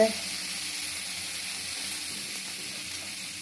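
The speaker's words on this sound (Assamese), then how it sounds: "এতিয়া ইয়াতে মই আলু এটা দি দিম, ডখৰ কাটা" Chopped potato pieces sizzle in hot oil in a pan, a steady, loud frying hiss that runs continuously after a brief thump at the start.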